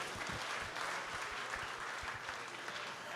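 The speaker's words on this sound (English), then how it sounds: "We truly appreciate a round of applause" Audience at a men's summit panel discussion gives a round of applause, soft and steady clapping heard from a distance, even and continuous for about three seconds with no talk.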